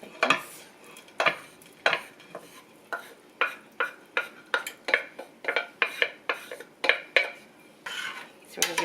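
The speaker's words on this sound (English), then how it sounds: "So we're going to give it a stir real quick." A utensil stirs ground meat in a pan while cooking fideo con carne, giving a steady series of metallic scrapes and clinks that grows more rapid and rhythmic. The meat sizzles softly underneath.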